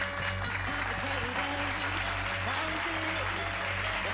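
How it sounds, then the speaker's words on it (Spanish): Audience hands clapping in steady applause at a clothing show, with a voice talking over it and a constant electrical hum underneath. "A ver los chicos, si utilizamos las manos para aplaudir."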